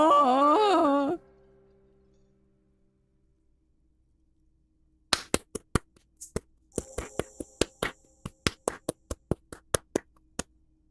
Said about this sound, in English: The most pathetic applause in the world, made of pity